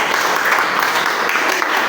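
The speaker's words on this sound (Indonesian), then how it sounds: "tepuk tangan buat Mary" Students in a classroom applaud a classmate, a dense, loud burst of group clapping filling the whole moment with no talk over it.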